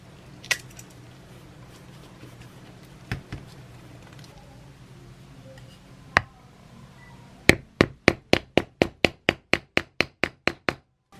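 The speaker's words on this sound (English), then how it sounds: "I'm going to go ahead and put our rivet in this piece right here" A hammer strikes a rivet through a leather knife sheath during an old knife restoration: a few scattered knocks, then a quick, even run of about fourteen sharp, close blows.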